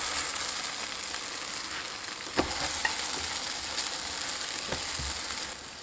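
A scallion oil pancake fries on an electric griddle, giving a continuous, even hiss of sizzling oil with a few soft clicks and taps throughout, close and moderately loud with no talking.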